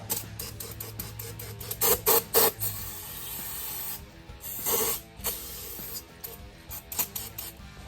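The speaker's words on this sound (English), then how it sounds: "A little brake cleaner in there. Help dissolve some of this Earl." Aerosol brake cleaner sprayed into the exhaust manifold of a Dodge M37 (T245-A): several short, loud hissing bursts close by, with pauses and faint clatter between them.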